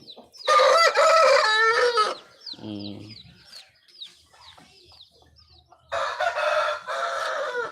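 A rooster crows loudly, then a few softer clucks and chirps follow before a second long crow, close by and without talk.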